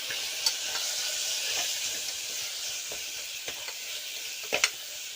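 Chili, turmeric and coriander powder being stirred in a hot pan, a steady close sizzle with occasional scraping clicks of a spoon against the pan, no voices.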